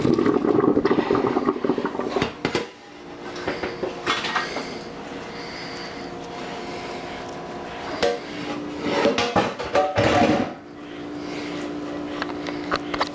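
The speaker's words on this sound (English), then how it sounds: "So we're gonna drain the egg noodles" Boiled egg noodles are drained, with pouring water rushing and splashing loudly, then metal pot and colander clanks and a bang; a second burst of pouring and clatter follows near the end.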